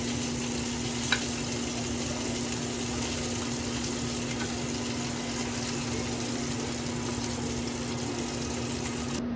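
Hot dogs frying in a small amount of oil in a home kitchen, a steady close sizzle that holds evenly throughout with a faint tonal hum underneath.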